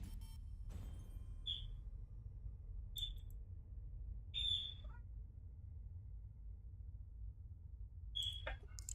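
Outdoor bird calls picked up faintly by a microphone: four or five short, high chirps spaced irregularly over several seconds, sitting above a steady low hum.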